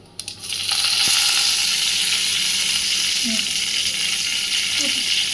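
Cumin seeds and curry leaves fry in hot oil for a simple dondakai masala curry, making a steady, close, crackling sizzle that runs the whole time after a brief clatter at the start, with faint talk beneath.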